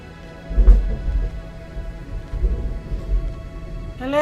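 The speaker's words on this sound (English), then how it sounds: "Hello, Thunderstorm." A thunderstorm rumbles in the game The Last Gas Station, with deep thunder rolls over a steady wash of rain and a sharp rising electronic chirp near the end.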